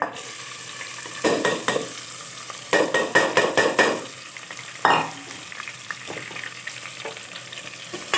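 Meat being stirred in a pan over a high flame, bursts of quick scraping strokes over a constant frying hiss, close by, with quieter sizzling in between and no talking.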